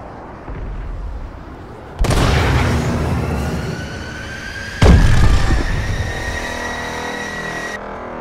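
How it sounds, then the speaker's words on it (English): Missile strikes in Call of Duty: Advanced Warfare land as two heavy booms a few seconds apart, each rolling into a rumbling decay, with a thin rising whine trailing between them and no speech. "Friendly missile strikes inbound."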